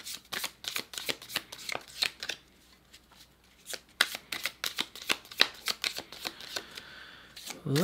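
Close-up tarot card shuffling: rapid riffles and snapping flicks of a deck in bursts, with a brief lull partway through, no voices.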